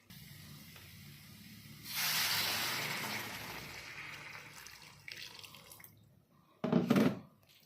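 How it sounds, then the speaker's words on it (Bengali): Hot water hisses and splashes into a pan of jackfruit and prawn curry, a loud pour that tapers off, followed by a short burst of sizzling spray. "এবার একটু গরম জল দিয়ে দেবো"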